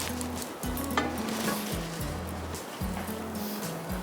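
Egg-coated cauliflower tikka fries in a pan with a soft, steady sizzle, overlaid by low tonal hums and occasional clicks and knocks, with no talking.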